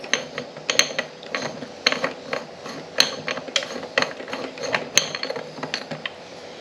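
A truck part is screwed by hand to adjust its height, producing rapid ratcheting clicks in irregular bursts, close and fairly quiet, with no talk.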